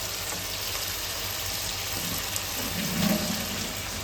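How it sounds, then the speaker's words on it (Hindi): Okra frying in a pan as yogurt goes in, for dahi bhindi: a steady, even sizzle throughout, swelling into a brief thicker bubbling gurgle near the end, close and moderately loud, with no voices. "बस अब इसमें दही डाल दूँगी।"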